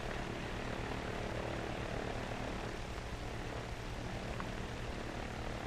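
A 1933 American Airways twin-motor propeller airliner, 1,450 horsepower, drones steadily in flight, a dense, unbroken engine roar heard from inside without speech.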